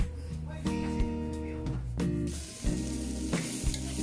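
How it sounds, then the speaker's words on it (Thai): Chillies, shallots and garlic stir-fry in a little oil for a canned-tuna chilli paste, a close sizzle broken by scraping stirs and clatter, with a faint voice briefly in the background. "แล้วเราก็จะผัด พริกหอมกระเทียมให้เขาสุกนะคะ"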